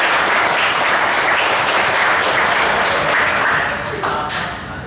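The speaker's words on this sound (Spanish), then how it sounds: "Vamos a dar un fuerte aplauso," Classroom applause at a university technology course session, dense steady clapping from a group that fills the clip, tapering slightly toward the end.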